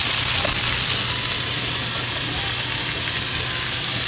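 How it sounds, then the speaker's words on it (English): Food sizzles loudly and steadily in a hot pan, a dense continuous crackling hiss with no talk over it. "You want to hear that sizzle."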